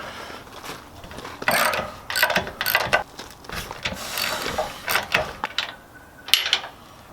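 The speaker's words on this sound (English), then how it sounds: "So now we're going to go ahead and start removing the bolts." A hand ratchet clicks in quick irregular bursts while loosening bolts on an electric RV trailer tongue jack, close by and with no talk.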